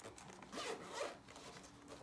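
A zipper on a small zippered microphone case is pulled open in a couple of quick close rasping strokes, quiet and alone with no talking.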